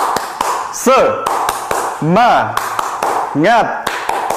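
Rhythmic 'tepuk semangat' clapping chant in a primary-school lesson: sharp, evenly spaced claps mixed with a sung, rising-and-falling chanting voice, close and loud.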